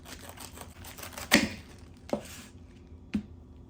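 A knife crunches through a cabbage to cut away its core, three sharp, separate cuts spaced about a second apart over quiet background.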